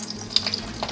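Donut dough frying in hot oil, a brief close crackling sizzle with a few sharp pops, steady and fairly loud.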